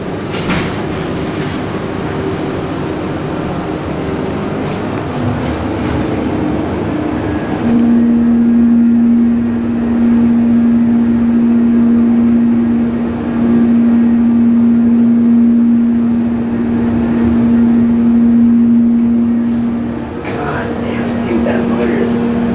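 Dover hydraulic elevator in a renovated cab at Bainer Hall, UC Davis, running with a loud steady low drone and broadband rumble that starts abruptly partway through and holds near and constant, with talk before it starts.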